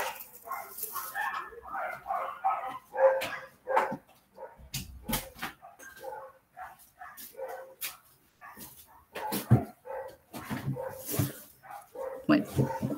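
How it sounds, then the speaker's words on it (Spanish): Neighbours' dogs bark in scattered bursts behind a teacher's online lesson, the barks mixed in with ongoing speech at moderate distance. "no sé qué tienen hoy día los perritos y los vecinos con sus perritos"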